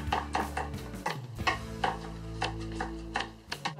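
A knife chopping food on a cutting board, sharp evenly spaced taps in a steady rhythm over a low background hum, close and clear with no talking.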